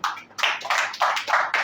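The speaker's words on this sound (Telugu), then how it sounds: "అర్థమైన వారందరూ చప్పట్లు కొట్టండి" A church congregation claps hands at a Telugu Christian sermon: a short run of loud, rhythmic bursts of group clapping in a quick, regular beat, with no talking.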